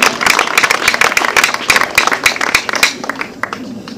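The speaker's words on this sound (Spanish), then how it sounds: "Dele fuerte ese aplauso al Señor." A church congregation claps loudly in a fast, steady rhythm that fills the room and thins out near the end, with some voices underneath.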